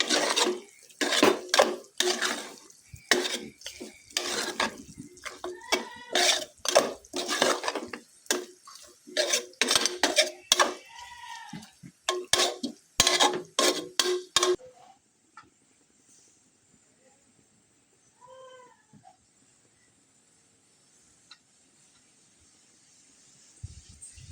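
Beef and potato mixture being stirred in a pan, with repeated scraping and clattering strokes for about fifteen seconds, then near quiet with only faint occasional clinks.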